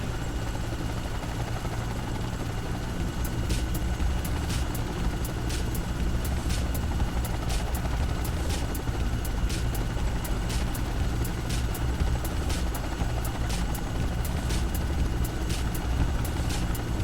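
A simulated helicopter on a Sweden tour in the FlightGear flight simulator taxies on the ground, a steady low engine drone with a constant whine above it and regular faint ticking pulses, unchanging throughout with no voices.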